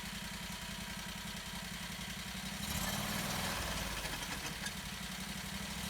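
A Predator 670 cc V-twin engine fitted in a 1969 Renault, put in first gear, idles with a steady low chug, then rises to a fuller, busier roar halfway through as throttle is given. The recording is fairly faint.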